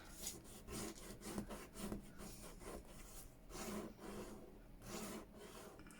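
Tape being torn down from the pages of a handmade keepsake journal, a close, dry rasping rip repeated in a series of short bursts with brief pauses between them.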